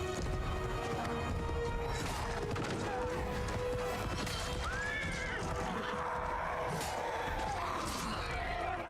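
A horse neighs and whinnies loudly in a battle scene from The Rings of Power, its rising cry cutting through dense clashing, crashing combat noise and hoofbeats that fill the whole stretch.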